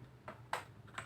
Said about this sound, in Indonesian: Saya akan ketik telnet